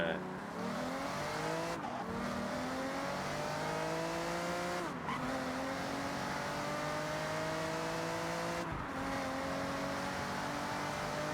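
A 2003 Aston Martin DB7 GT engine in a racing video game holds a loud, continuous rising and falling drone through gear shifts and high-speed turns, with brief dips at each shift and faint tire noise.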